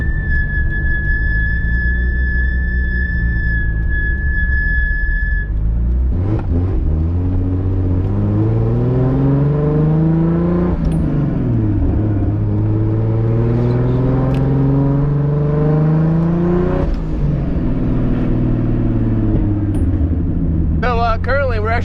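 Nissan with an RB30 engine driving on the road, its steady engine rising and falling through repeated acceleration and gear changes, loud and close with a voice talking over it.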